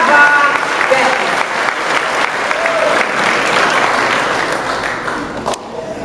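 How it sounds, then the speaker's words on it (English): Sustained, full-room applause at the Sol Stetin Awards Gala honoring a recipient, loud and even for several seconds before a sudden sharp knock near the end. "So let's give her a nice round of applause for her accomplishment this past year"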